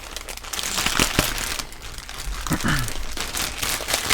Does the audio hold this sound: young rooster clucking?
no